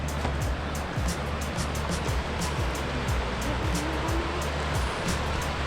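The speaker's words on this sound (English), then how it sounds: "you get a beautiful river, stream, brook, anything like that to walk beside, awesome, awesome soundtrack to your hike" A river rushing beside a hiking trail in the Doe River Gorge near Hampton, Tennessee, a loud, constant wash of flowing water close by with faint footsteps or thumps underneath, no speech.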